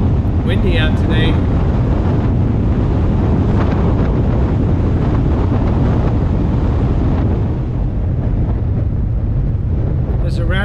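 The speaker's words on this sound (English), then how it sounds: "Windy out today." Strong wind buffets the microphone steadily for the whole stretch, a loud continuous rumbling roar along a road out by 61st Street, with a few faint higher tones near the start and end.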